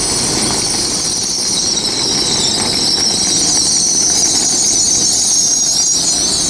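A Great Western Railway Class 800 train in memorial livery pulls into Oxford station on a busy service, its steady loud rumble and high whine filling the platform throughout, with faint wheel squeal and no talk.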